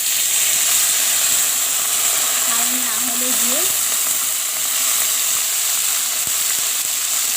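Onions fried red in hot oil sizzle with a steady, loud hiss after a splash of water is added, the crackle continuous throughout while a voice speaks briefly over it.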